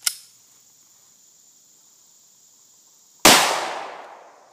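A single loud gunshot fired with a Liberty Special Forces shell at about 15 feet, its sharp report ringing out and decaying over a second, preceded by a faint click and a steady high insect-like whine.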